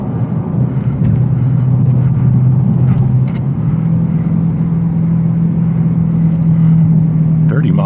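A Dodge Charger Hellcat Widebody cruising in sport mode with sport suspension at about 65 mph, giving a steady, loud low engine drone and road rumble that lasts throughout, with a slight shift in pitch partway.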